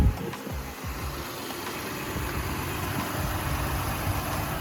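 A Honda car engine turns over and settles into a steady low idle, a continuous rumbling hum with a few uneven bursts at the start, heard close up with no talking.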